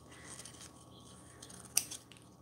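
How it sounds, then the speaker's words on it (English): Scissors roughly fussy-cutting a paper image with a border for a handmade postcard, heard as faint, quiet snips with one sharper cut standing out near the end. "So I'm just going to roughly fussy cut this."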